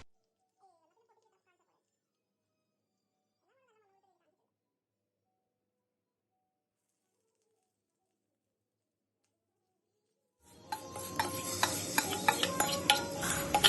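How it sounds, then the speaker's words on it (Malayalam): Mustard seeds, curry leaves and dried red chillies hit hot oil after a long near-silent stretch, bursting into a loud, crackling sizzle for the last few seconds. "കുറച്ച് കടുകിടുന്നു കടുക് പൊട്ടിക്കഴിഞ്ഞാൽ ഉടനെ നമുക്ക് കുറച്ച് കറിവേപ്പില ഇടാം"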